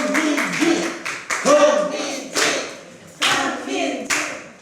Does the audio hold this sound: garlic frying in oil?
no